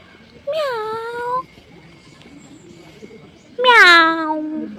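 Cats at Darjeeling Zoological Park give two drawn-out, wavering meows, the second louder and more strained like a caterwaul, separated by a quiet gap.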